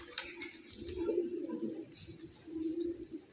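A fancy-breed pigeon coos softly at close range, giving low rolling calls in two bursts over a quiet room with faint rustling.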